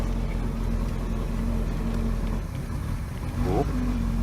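An old boat's engine, its block cracked, runs steadily and is given a little throttle, its rumble rising briefly near the end amid a brief whining tone, with voices faintly underneath.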